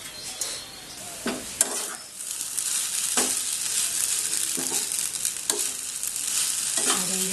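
Pasta tossed and stirred in a hot frying pan, sizzling steadily with repeated scraping strokes of the spoon at irregular intervals, close and fairly loud, with no talking.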